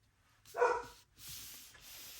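One sharp dog bark stands out nearby, then soft rustling and a low hiss continue afterward.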